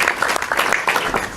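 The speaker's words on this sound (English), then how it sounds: "No anthem here, just a ripple of applause." A brief ripple of applause from leaders gathered at an EU summit in Brussels, a soft, dense patter of clapping heard close.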